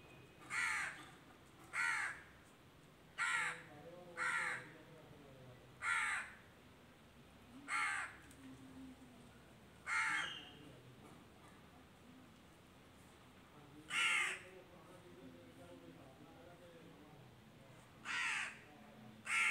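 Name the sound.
crow cawing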